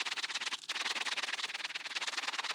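Steady, rhythmic scratchy rubbing of a 36-grit sanding block against shoe fabric, close and fairly quiet, with no talking.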